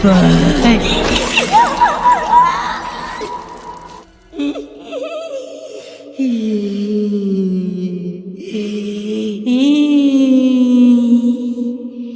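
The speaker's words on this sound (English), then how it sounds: "Seizing his chance, the villager shattered a pan of glass and..." A pane of glass shatters in a Minecraft horror story, a loud crash at the very start. Tonal, whimpering vocal sounds follow for the rest of the stretch.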